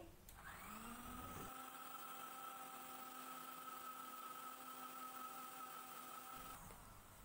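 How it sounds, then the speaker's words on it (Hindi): Blender running at high speed on cardamom tea cake batter, a loud steady motor whine that spins up, holds constant for several seconds and then winds down. "आप इसको हाई स्पीड पर एक मिनट तक अच्छे से ब्लेंड कर लें"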